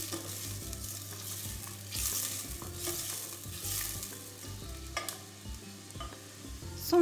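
Carrots being stirred in a hot pan for pumpkin soup, with steady sizzling and repeated scraping strokes of a utensil, close up, no talking.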